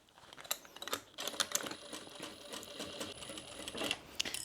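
A sewing machine stitching a seam around the top of a fabric coffee sleeve, with a close, steady rapid mechanical whir and clatter and occasional sharper ticks, no talk.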